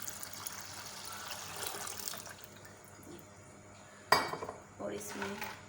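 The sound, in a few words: water being added to tamarind pulp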